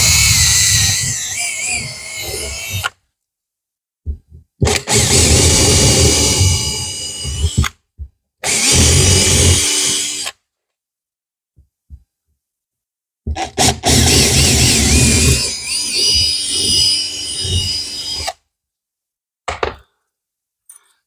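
A power drill bores holes into a wall, including plasterboard, to mount an electric radiator, in several loud bursts of a few seconds each separated by silence, close by.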